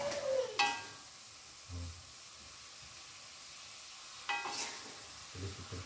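Fried eggs go into a frying pan of cooking eggplant, a quiet steady sizzle broken by two clattering bursts as food is dropped and stirred, no voices.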